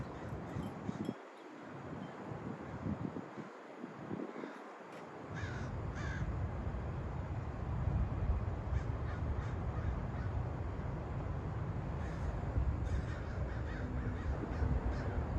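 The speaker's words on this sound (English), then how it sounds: "the crows start flying around, dipping and diving into the trees" Crows caw at sunset as they fly around and dip into the trees, harsh repeated calls at a middle distance over a rising bed of wind and rustling leaves, with no one speaking.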